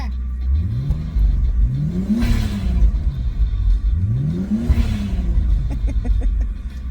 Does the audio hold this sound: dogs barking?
no